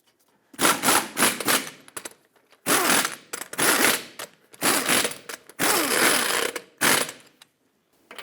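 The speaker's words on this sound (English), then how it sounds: "Start on all 5 lug nuts in a cross pattern, bottom them out, and also in a cross pattern, torque them to 79 foot-pounds." A torque wrench ratchets rapidly on a 2008-2012 Honda Accord wheel's lug nuts, tightening in a cross pattern: several close, loud bursts of fast clicking separated by short pauses as it moves from nut to nut.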